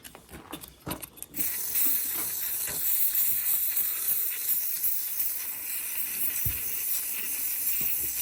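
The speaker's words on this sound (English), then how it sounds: "So we can spray that side with some Lanox." Lanox aerosol sprays onto a seized, corroded part of a Yamaha Bear Tracker 250cc quad bike, a few short clicks and knocks followed by a long, steady, close hiss.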